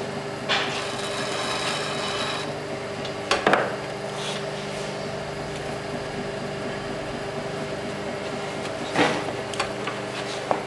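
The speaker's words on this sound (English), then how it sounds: "So I'm going to use this tool here. Just want to take away the excess clay." A trimming tool shaves excess clay from a freshly thrown pot on a potter's wheel, making faint steady scraping under a constant low wheel hum, with a couple of sharper scrapes.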